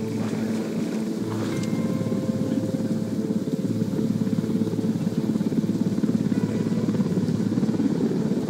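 An enemy helicopter approaches in the tactical shooter Ghost Recon Wildlands, a steady, pulsing rotor drone that builds slightly louder over about eight seconds, with no speech.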